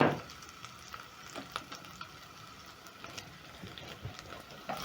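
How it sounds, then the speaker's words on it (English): Pork sears in a pot with a quiet, continuous sizzle and a few soft knocks and crackles scattered throughout, heard alone without voices. "let my pork cook until a little bit golden brown, or rather sear our pork"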